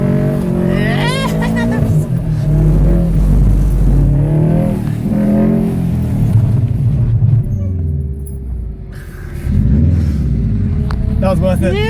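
A 2011 Subaru WRX STI driven hard on a skidpan, its engine revving and surging loudly up and down with tyre noise, while people talk excitedly over it.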